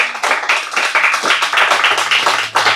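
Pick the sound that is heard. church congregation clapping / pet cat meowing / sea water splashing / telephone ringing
church congregation clapping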